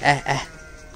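A goat on a village farm bleats twice in quick succession, loud and close, with a wavering nasal tone that fades into quiet background noise.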